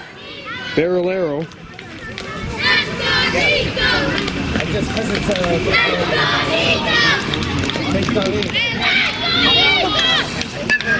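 A youth Atom baseball team's bench shouts and chants encouragement at a field in Lac St Louis, with loud overlapping children's voices rising and falling throughout, close and busy.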